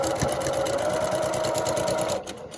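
A sewing machine runs fast and steady while stitching a quilt seam, close and continuous, then stops abruptly near the end.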